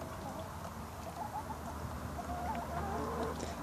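Chickens in an Arizona high desert garden cluck softly in the distance, a few faint calls rising over a steady low background hum with no speech.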